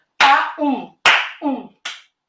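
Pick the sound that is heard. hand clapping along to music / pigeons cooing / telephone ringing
hand clapping along to music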